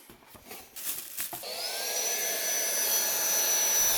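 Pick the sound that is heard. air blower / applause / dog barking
air blower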